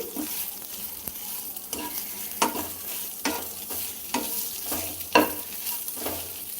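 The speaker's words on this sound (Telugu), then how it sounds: "కాస్త మనకి ఫ్రై అవనిద్దాము లైట్గా" Leftover idli pieces fry lightly with masala in a pan, a steady close sizzle broken by repeated scraping stirs of the spatula, with no talking.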